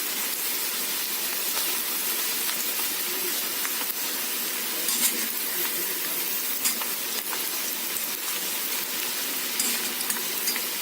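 Masala sautéing in a pan for spiny gourd subzi gives off a loud, steady sizzle and frying hiss, with occasional stirring scrapes and crackles and no talking.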